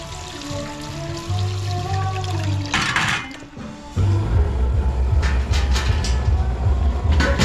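Water is poured into a pot of boiling pork ribs (pork belly) being braised with coffee, a pouring splash and bubbling rising over steady kitchen background, with a louder burst of liquid midway and continued simmering after.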